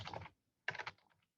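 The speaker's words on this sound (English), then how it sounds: "can you see what I'm typing, guys?" Two short bursts of rapid typing on a computer keyboard, close and clicky, separated by a brief pause, with no talk.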